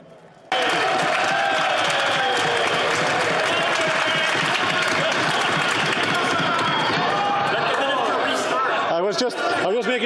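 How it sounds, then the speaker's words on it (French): Parliamentary question period in a legislative chamber, where a crowd of members bursts into loud sustained applause after a brief quiet start, with voices calling out through the clapping as it begins to fade near the end. "Il mérite la main d'applaudissement qu'il reçoit en ce moment"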